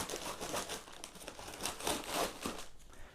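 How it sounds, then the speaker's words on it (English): Close, steady crinkling and rustling as the top of a bag of ecological wheat is cut off, continuous plastic crackle throughout with no talk. "So here we have a bag of ecological wheat. So we just cut the top off."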